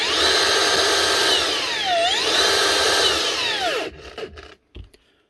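A Makita DUT130 cordless mixer's motor whines loudly and continuously, its pitch dipping and rising as the speed changes, then cuts off abruptly and falls quiet apart from a few faint knocks.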